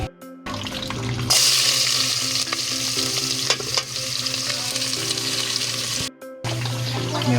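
Duck meat sautés with black pepper for Filipino duck adobo. A loud, steady sizzle fills the pan, stirring clatters through it, and the sound cuts out briefly near the start and end.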